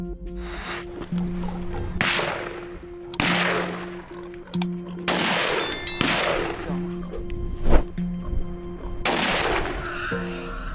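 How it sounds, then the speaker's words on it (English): Gunfire from farmers shooting at packs of wild boars in the countryside: a series of loud, sharp shots, each followed by a decaying echo, spaced irregularly a second or two apart over a steady low background drone. "We take up our guns and fight."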